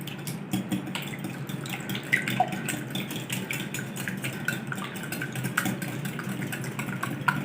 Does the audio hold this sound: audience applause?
no